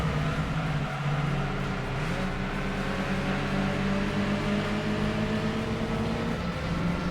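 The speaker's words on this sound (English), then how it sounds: "car sounds a lot better now that I put an exhaust on it" A car fitted with an aftermarket exhaust in Gran Turismo 2 drones steadily and loudly throughout, its engine pitch climbing after a brief dip as it accelerates.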